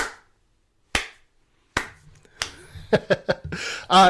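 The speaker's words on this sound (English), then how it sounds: "I'll give you the slow clap." Three slow, deliberate single hand claps spaced nearly a second apart ring out close and crisp in a quiet podcast studio, followed by a quick burst of sharper sounds and a voice.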